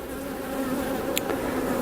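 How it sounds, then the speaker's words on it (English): Honey bees in a Demaree-manipulated hive hum in a steady, dense buzz close by, the drone continuous throughout with a brief faint click near the middle. "Got a fair amount of bees up in it."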